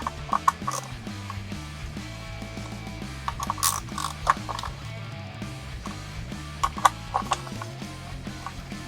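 Neck bolts being tightened on an EVH Wolfgang electric guitar: close mechanical ratcheting clicks in short runs over a low steady hum.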